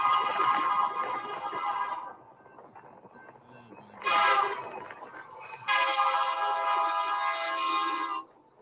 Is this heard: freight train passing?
yes